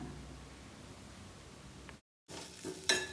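A toor dal dumpling mixture is stirred in a pan with a spoonful of lemon juice after the gas is switched off. A soft hissy scraping runs, cuts out briefly, then returns with a few bright clinks near the end.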